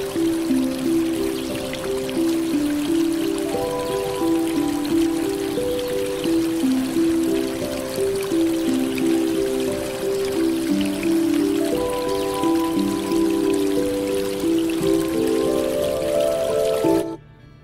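Running water trickles and flows continuously through an ambient song, blending with soft sustained melodic tones that hold steady until both cut off abruptly at the end.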